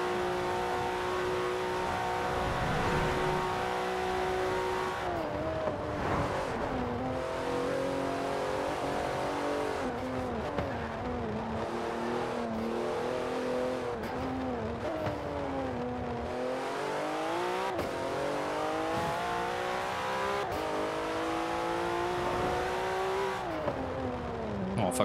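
A car engine in the racing video game Forza Horizon 4 drives continuously, revving up and down in pitch through gear changes with a steady loud drone and occasional dips, no talking over it.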